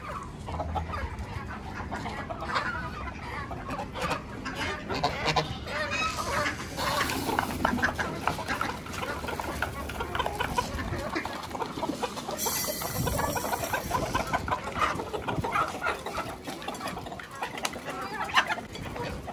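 Chickens cluck and squawk in a dense, continuous flock chorus while being fed grain at a zoo. The sound is close and steady throughout, with no talking.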